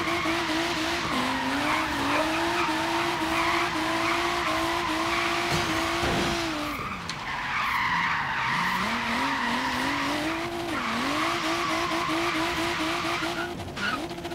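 Tires squeal in long wavering skids as several cars drift together in the video game Forza Horizon 3, with engines droning steadily beneath; the screeching is loud and continuous throughout, briefly dipping midway before rising again.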